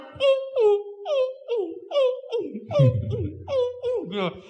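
Children and an adult imitate a frog's croak at a Sunday school gathering, a string of short voiced calls that rise and fall in a rough rhythm, close and fairly loud.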